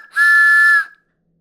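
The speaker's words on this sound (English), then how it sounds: "train whistle" A homemade wooden train whistle with a dowel rod gives one bright, steady blast of under a second, close and loud, and then cuts to silence.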